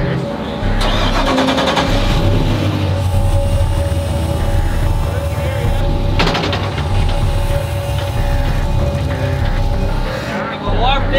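A race car engine cranks and fires up, then runs steadily at a loud, rough idle with a couple of sharp rev bursts, close by and continuous throughout.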